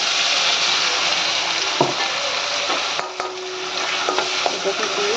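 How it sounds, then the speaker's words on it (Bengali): Cinnamon, bay leaf and cloves frying in hot oil while being stirred, a steady close sizzle broken by occasional scrapes and clinks of the spoon against the pan. "দারচিনি, তেজপাতা, লবঙ্গ দিয়ে এটা ভালো করে নাড়াচাড়া করতে হবে"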